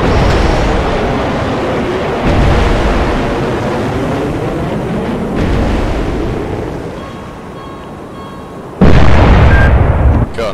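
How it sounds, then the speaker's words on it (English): P-270 Moskit (SS-N-22 Sunburn) anti-ship missiles launching from a Sovremenny-class destroyer in the naval game Cold Waters: loud, rumbling roaring blasts in succession, with a sharp burst near the end. "Fire missile."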